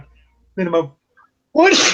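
A sneeze at a tabletop game playtest, one loud, close, explosive burst near the end, preceded by brief talk.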